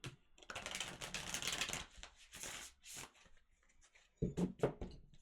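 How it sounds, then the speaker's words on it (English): Tarot cards being shuffled at close range in repeated bursts of crisp riffling and flicking, separated by short pauses, with a few louder taps near the end; no talking. "I'm going to shuffle, please, for Libra."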